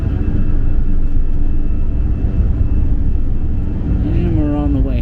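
Airplane taking off on a return flight from Varadero, Cuba, a loud continuous engine roar heard from inside the cabin, with a rising whine near the end.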